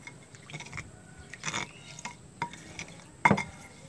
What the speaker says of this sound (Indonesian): Dicampur.